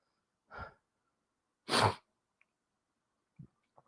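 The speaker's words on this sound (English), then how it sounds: "Oh, I'm gonna sneeze again." A single person's sneeze bursts out loud and close, preceded by a short sharp inhale and followed by a faint breathy exhale, with no talking.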